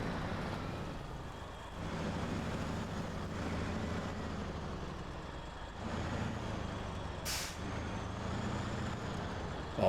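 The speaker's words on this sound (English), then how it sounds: "Listen to that engine. I love that throaty roar." A heavy truck engine in the game SnowRunner roars steadily and throatily throughout, a continuous low rumble with slight shifts in intensity and no voices.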